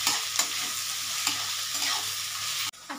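Onions fry in a pan for chicken kasha, a close, steady sizzle with a spatula stirring and scraping in quick repeated strokes, no voices over it.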